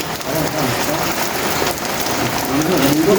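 Heavy rain falling steadily on a surface outdoors, a loud continuous dense patter throughout with no voices.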